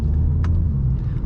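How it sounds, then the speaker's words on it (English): A stock Volkswagen Scirocco with a DSG gearbox accelerates, its engine a deep, loud low rumble heard from inside the car, steady throughout with a brief higher-pitched blip partway through. "This is a stock car and the DSG sounds beautiful."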